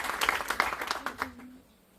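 Brief scattered applause in a church congregation acclaiming the Lord, a handful of quick claps that thin out and fade into quiet within two seconds.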